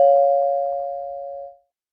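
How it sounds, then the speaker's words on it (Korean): A doorbell at a house's front gate gives a single clear electronic chime, one pure sustained tone that fades smoothly for about a second and a half before cutting off, with nothing else around it. "손을 들어 초인종을 눌렀어요."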